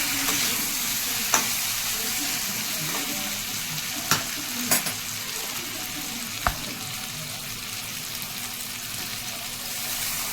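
Meat that has been browned in oil, with water added to the pan, gives a steady loud sizzle and hiss, broken by a few sharp clinks of a utensil.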